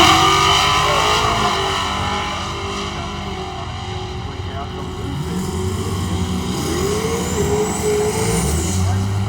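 A red 1956 Chevrolet drag race car at a drag strip, its engine roaring loudly and steadily with a rising pitch as it accelerates, with a voice talking over the noise.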